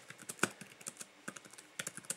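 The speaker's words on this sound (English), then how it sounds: "Apologies for my very poor typing style" Quick tapping on the touchscreen keyboard of a Motorola Atrix phone comes in short, uneven bursts of soft clicks with brief pauses between them, close and quiet, with no voices.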